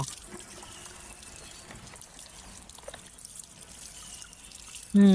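Water running from a tap while a fish is washed: a soft, steady trickle and pour close by, ending in a brief louder splash, with no talk over it.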